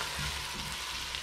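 Red and white onions frying in a pan, giving a steady, even sizzle close by with no voices over it.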